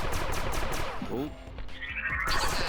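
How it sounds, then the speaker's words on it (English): Missile launches in the arcade space shooter Defenstar sound as a rapid burst of sharp firing blasts followed by a whooshing launch and a bright rising tone, short and punchy. "I think that was missiles."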